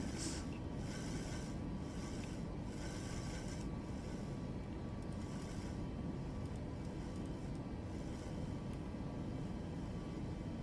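Boeing 737 airliner climbing out in Microsoft Flight Simulator 2024, a steady loud broadband engine roar with cabin rumble holding constant throughout, no voices.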